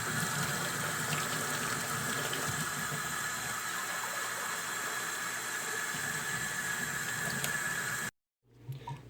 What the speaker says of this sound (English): Let's add some more hot water.